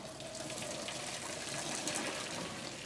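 Water from cooked linguine pours out into a strainer and drains, a steady close rushing gush that fills the short stretch at even loudness, with no voices.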